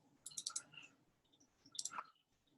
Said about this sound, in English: Double clicking ends, so I'll just start again.